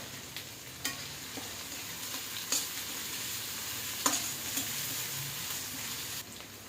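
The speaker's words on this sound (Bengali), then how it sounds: "হালকা একটু ভেজে নিয়ে এরপর আমি হাফ কাপের চেয়েও একটু কম পেঁয়াজ কুচি দিয়ে দেবো" Chopped onion fries gently in a pan for a raw banana and hilsa fish curry, a quiet continuous sizzle with a few soft utensil taps and clicks spaced across it, no voices.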